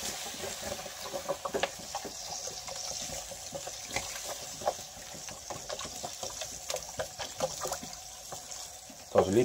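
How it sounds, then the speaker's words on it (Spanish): Water is poured into a paella pan while cooking a Valencian paella, a steady splashing and trickling stream with sharp bubbling spatters and faint kitchen clatter, fairly close and moderately quiet. "Y voy a echarle ya el agua."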